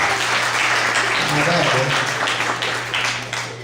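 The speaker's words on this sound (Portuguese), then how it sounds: "Cadê as palmas para os meus irmãos aqui?" A live audience at a couples' lecture gives sustained applause, a dense wash of clapping filling the whole stretch, with a low steady hum and some voices mixed in.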